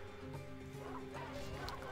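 War dogs in a Rome: Total War battle on a bridge against Spartans, a steady chorus of barking and yipping over the distant clamor of fighting, with a faint voice underneath.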